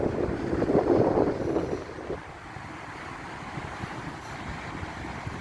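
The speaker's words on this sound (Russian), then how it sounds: "небольшой ветер" Light winter wind buffets the microphone on a central beach of the Azov Sea, with low rumbling gusts that are louder at first, then a steady, softer blowing with faint surf beneath.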